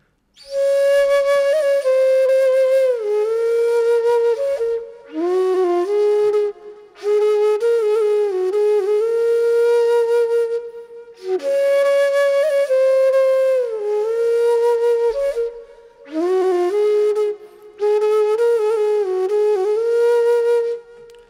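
A breathy flute melody through a delay effect plays phrases of sustained and sliding notes, each trailing into soft repeating echoes in the gaps between phrases.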